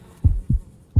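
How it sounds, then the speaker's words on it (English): In the Ghost of Tabor VR game, a heartbeat effect throbs as three deep, muffled, evenly spaced beats, loud and close, with nothing else heard. "the sound of this heartbeat is so intrusive"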